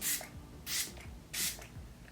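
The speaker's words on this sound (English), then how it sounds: "I'm just gonna mist it with a setting spray just to make sure it's not too dry" LH Cosmetics Onset Prep, Fix, and Refresh setting spray is misted onto a face in three short, soft hissing bursts, evenly spaced and close by.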